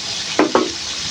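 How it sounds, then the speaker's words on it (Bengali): Washed dried fish drops into a pan of fried spice paste, bringing two quick stirring scrapes over a steady loud sizzle. "এখন আমি দিয়ে দিব ধুয়ে পরিষ্কার করা শুটকি।"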